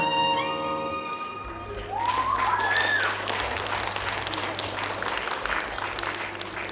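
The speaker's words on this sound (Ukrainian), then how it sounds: "Більше, більше, більше оплесків" Sustained applause from an audience at a Ukrainian aerial gymnastics championship, a dense wash of clapping that swells in after a fading sung note and carries on steadily, with a voice briefly rising over it.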